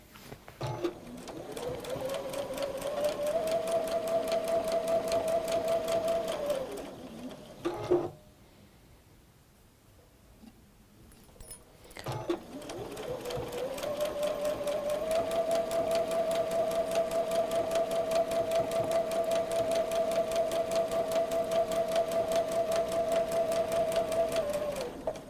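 A domestic sewing machine runs steadily stitching two bias-cut fabric edges, a fast even whirring hum that stops for a few seconds, then resumes with another long, uninterrupted run; nearby and without talk.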